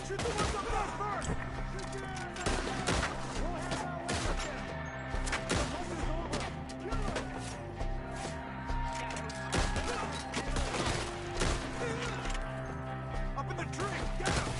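Dense, rapid gunfire from a Red Dead Redemption 2 shootout, close and loud, with rifle and pistol shots cracking in irregular bursts throughout, under urgent shouted voices.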